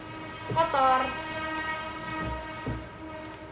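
Toy train in a car showroom gives a near horn blast of stacked tones, followed by low rumbling clatter and brief bursts, loud over a steady background.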